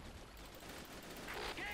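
Rapid bursts of gunfire from the game Men of War: Assault Squad 2 crackle through a dense, noisy mix, with a brighter flurry of shots near the end.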